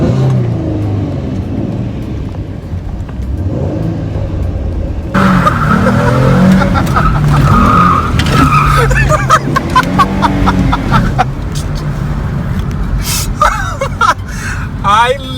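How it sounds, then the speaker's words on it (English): A Ford Mustang ride: the car's engine rumbles and revs as it accelerates, loud and close, while passengers talk, gasp and shriek excitedly throughout. "And then we proceeded to the Mustang, waiting for that ride."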